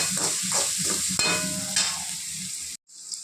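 Onions cooking in oil with a little salt, a close sizzle with rhythmic stirring strokes, then a sudden cut to near silence before the frying hiss returns.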